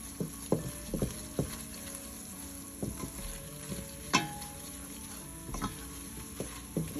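A spoon stirring ingredients into cheesy potato soup in a pot, with irregular scraping clicks and knocks against the pot over a faint bubbling simmer, close and moderately quiet.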